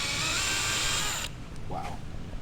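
A power drill bores through the plastic trunk panel of an A90 Toyota Supra with a loud, steady high whine that cuts off abruptly, leaving a low background rumble and faint trailing noises.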